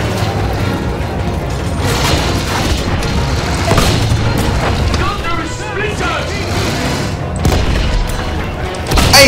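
Loud gunfire and booming explosions in the Battlefield 1 video game rumble continuously, with heavy thuds and mechanical clatter under excited shouting talk.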